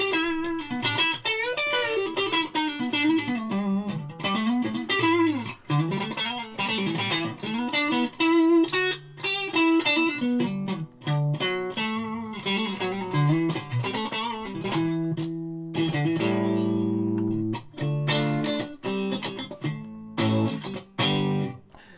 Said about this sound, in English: bit of distortion on the single coils